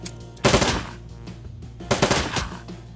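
Turret machine guns in Shadowrun: Dragonfall fire two rapid, loud bursts about a second and a half apart, each a dense rattle of shots lasting under half a second. No one speaks.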